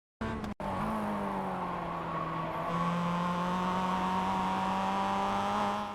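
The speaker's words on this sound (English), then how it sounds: "hit the brakes and shift down into second gear" A Mazda MX-5 in the iRacing game brakes and downshifts at Oschersleben after a brief click. A loud, close engine drone shifts pitch, and tire noise continues steadily until it tapers at the end.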